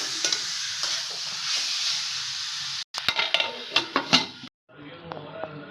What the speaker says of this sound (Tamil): இப்போ நான் அப்படியே கிளறிட்டு மூடி வச்சுட்டு போகிறோம்